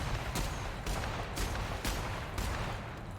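Sniper rifle fire in the video game The Outer Worlds: five or six sharp, loud shots spaced roughly half a second apart, each a broadband crack over steady low background rumble, with no talk.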